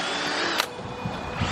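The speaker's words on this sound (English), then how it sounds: "You drill the holes and then you connect the dots." A power drill whirs steadily as it bores holes into a pumpkin for carving, a sustained motor whine with a brief sharp burst partway through and faint handling noise.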